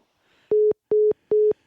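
A telephone disconnect tone beeps three times at even intervals after a caller's phone line drops during a call, each beep loud and steady with short silences between.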